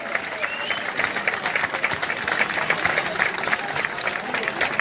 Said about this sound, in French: Voilà, on applaudit Muse.